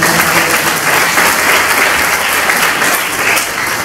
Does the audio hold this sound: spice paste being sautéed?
no